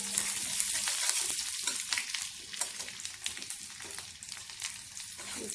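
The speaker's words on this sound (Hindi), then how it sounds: "अब इसमें पहले हम डालेंगे हरी मिर्च। हरी मिर्च डालने से इसका तीखापन जो है वो पहले तेल में आ जाएगा।" Green chillies frying in hot oil in a pan for an Odisha bamboo shoot chutney, a continuous loud sizzle and crackle, close up, with faint stirring and no speech.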